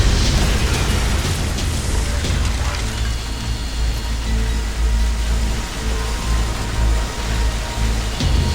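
A bomb explosion in Max Payne 3 lingers as a dense, loud rumbling roar with heavy low-end and crackling debris throughout, sustained without letup and with no voices.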